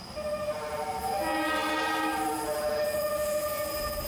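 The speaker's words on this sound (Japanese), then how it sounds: "運転手さんにミュージックホーン鳴らしてくださいとお願いして鳴らしていただきました" The Train Suite Shiki-shima luxury sleeper train, running out of service past Uguisudani station, plays its loud melodic music horn, a layered multi-tone chord held for about three seconds over the steady rumble of the passing train.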